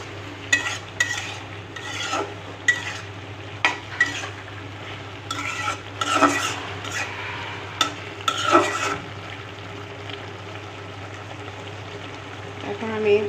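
Pumpkin and shrimp sauté in a pan while a utensil stirs and scrapes in irregular bursts over a steady low hum, with occasional clinks against the metal.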